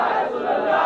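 A large crowd at a Milad un Nabi gathering at a dargah roars back a religious slogan in unison, one loud sustained shout of many voices close and full.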